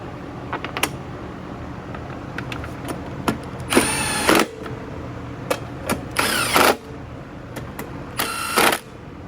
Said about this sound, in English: Let's put the recoil on. 3 bolts.